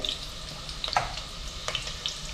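Mutton rubbed with turmeric and salt hits hot oil over sautéed onions, giving a steady close crackling sizzle with scattered sharp pops and spatters, no voices.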